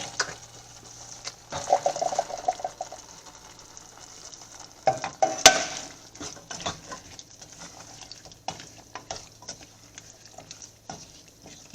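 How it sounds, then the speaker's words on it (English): Strained chickpeas tipped into softened tomatoes in a pan over low to medium flame, giving a soft sizzle with scraping, stirring clatter and a sharp clink midway, close and moderately loud with no talking. "Now I'm going to add the strained chickpea."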